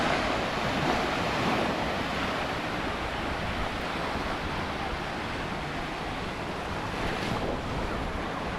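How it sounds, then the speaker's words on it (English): Ocean waves wash steadily onto a beach in Tulum, a continuous broadband roar of surf with some wind buffeting the microphone, fairly loud and unbroken, with no voices. "So today we're just relaxing on the beach"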